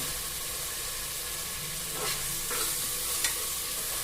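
Mushroom biryani masala sautés in a pan with a constant close sizzle and hiss, broken by a couple of brief stirring scrapes near the end.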